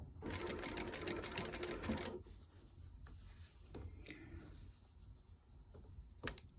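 A sewing machine stitches an ironing board cover in a fast, dense burst of rapid mechanical clatter for about two seconds, then stops, leaving quiet handling noises and a few soft clicks.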